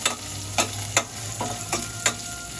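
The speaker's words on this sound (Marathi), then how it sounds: "मिरची कढीपत्ता वगैरे छान परतून घेऊया" Green chillies and curry leaves sauté in hot oil in a pan for moong dal khichdi, with a steady close sizzle and about six sharp spatula scrapes and stirs at irregular intervals.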